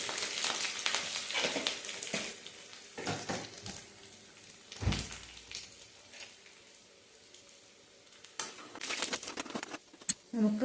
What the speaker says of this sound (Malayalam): കുറച്ച് കരിവേപ്പില ഇട്ട് കൊടുക്കാം.